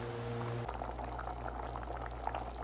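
A pot of bottle gourd bubbles at a steady boil, a soft, continuous bubbling with a low hum from the stove under it, and nobody speaks.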